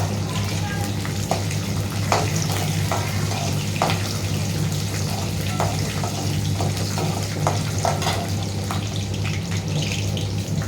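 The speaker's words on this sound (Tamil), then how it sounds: "பொன்னிறமாக வந்ததுக்கப்புறம் கடுகு போடணும்" Mustard seeds dropped into hot oil for lemon rasam crackle and sizzle in a dense, steady wash with scattered sharp pops, loud and close throughout.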